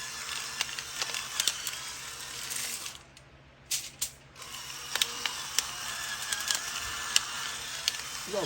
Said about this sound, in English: I hit it with some black pepper. This is coarse, fresh black pepper